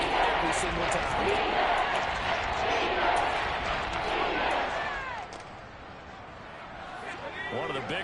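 A football stadium crowd at an NFC Championship game between the Browns and the Lions roars loudly and steadily, a dense wash of cheering that dips briefly, then swells again, with whistle-like shouts over the top.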